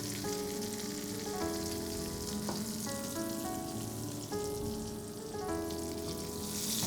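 Salmon fries crisp in a pan with a continuous, even sizzle and crackle at close range, over a faint tonal hum in the background.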